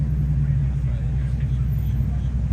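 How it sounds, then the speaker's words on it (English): A Ferrari LaFerrari rolls in at a car show with a low, steady engine rumble held close and loud for the whole stretch, with no clear revving peaks. "Listen to this. LaFerrari rolling in."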